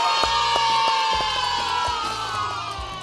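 Kindergarten children at a storytelling session cheer and shout together in a loud, excited burst, with sharp rhythmic claps or beats and a sustained tonal background underneath.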